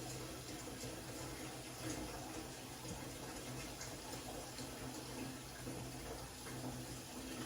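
Tap water runs in a steady, even stream into a pan, a continuous moderate gush that holds at the same level throughout, with no talking over it.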